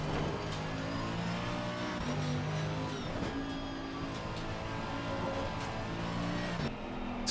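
A race car engine in a racing video game drones loudly and continuously through the final corner, with the pitch rising and shifting as it revs, and other cars faintly audible around it.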